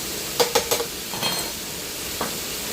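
Minced garlic hitting a hot pan of browning ground meat, with a few quick close stirring scrapes over a steady sizzling hiss.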